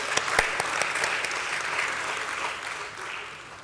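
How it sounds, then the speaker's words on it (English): An audience at a stock exchange listing ceremony applauds to welcome a speaker, a steady wash of clapping with a few louder, nearer claps at the start, tapering slightly toward the end. "Let's have a huge round of applause for him"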